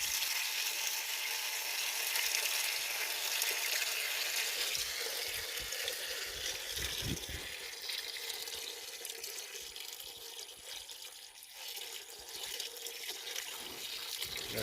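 Coolant pours steadily from the pulled lower radiator hose on a 1996 Ford F350 7.3L, a continuous splashing, trickling wash like running water, close by and alone throughout.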